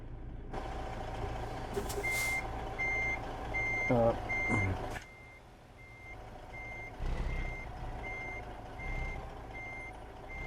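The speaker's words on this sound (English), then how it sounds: "Let the beeping begin." Steady, evenly spaced reversing beeps ring out over a low idling truck engine in American Truck Simulator, with a hiss of air brakes and clunks partway through.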